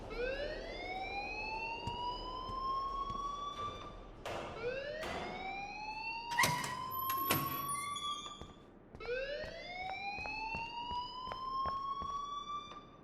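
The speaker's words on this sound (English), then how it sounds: "please turn off that alarm since that's your job" An alarm in the Life Is Strange video game blares as repeated rising, siren-like wails, loud and close, with brief sharp clatters between sweeps.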